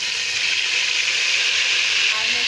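Garlic and ginger added to a hot pan with cumin sizzle loudly, a steady bright hiss of frying that fills the whole moment.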